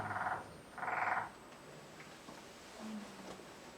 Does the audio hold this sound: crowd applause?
no